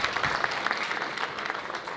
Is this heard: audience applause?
yes